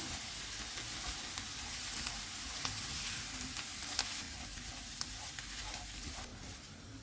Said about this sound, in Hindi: इनको मिक्स करेंगे और 1 से 2 मिनट तक पकाएंगे।